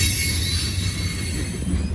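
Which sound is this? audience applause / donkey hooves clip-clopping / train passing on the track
train passing on the track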